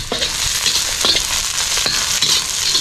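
Ginger and garlic sauté in hot oil in a thin pan, a loud, steady sizzle and crackle with occasional stirring scrapes, running without a break and with no voices.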